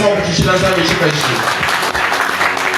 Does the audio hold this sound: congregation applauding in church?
yes